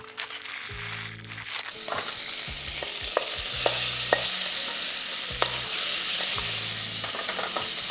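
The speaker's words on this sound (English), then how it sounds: "In a cold pan with no oil, we're gonna add our guanciale, kick the heat up to like a medium." Guanciale frying in a dry pan over medium heat, a steady bright sizzle that grows through the clip, with intermittent scraping and stirring knocks against the pan.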